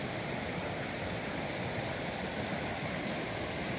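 Steady broadband rush of North Inlet Creek flowing past a backcountry campsite, a constant close, even wash of moving water with no breaks or voices.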